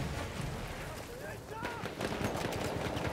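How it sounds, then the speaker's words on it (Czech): Gunfire in the Battlefield 1 multiplayer Rush mode, bursts of distant shots and rumbling battle noise, with a player talking over it. "Někdo se tam pohnul a už po mně i střílí."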